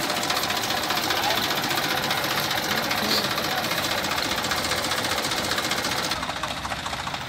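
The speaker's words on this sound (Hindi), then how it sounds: "छोटा ट्रैक्टर है क्या शानदार आवाज़ है" A small tractor's engine runs steadily close by, a dense continuous knocking chug that holds level throughout and eases slightly near the end.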